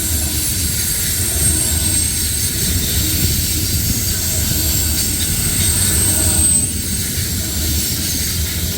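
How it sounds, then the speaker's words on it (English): Long CSX mixed freight train, M421, rushing past at speed in Point of Rocks, Maryland: a loud, steady rumble of wheels and cars rolling by close at hand for the whole stretch, with faint high squeals. "My gosh, this train is going really fast."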